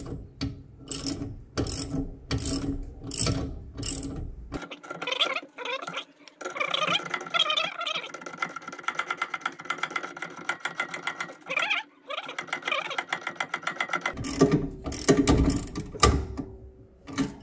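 A ratchet wrench tightening a control arm bushing bolt on a 1999 Corsa 1.6, giving a long run of close, rapid metallic clicks in quick bursts with brief pauses between them.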